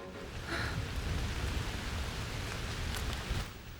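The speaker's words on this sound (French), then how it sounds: "Cette pluie m'insupporte." Steady rain pours down nearby, a dense continuous hiss with scattered louder drops spattering on surfaces.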